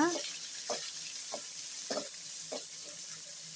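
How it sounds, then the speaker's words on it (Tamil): Onions sautéing in a hot pan for a Karaikudi-style brinjal podi poriyal, a steady close sizzle with rhythmic scraping stirs of a spatula about every half second. "வெங்காயத்தை கூட சேர்த்துக்கலாம் சேர்த்து நல்லா வதக்கி விட்ருங்க"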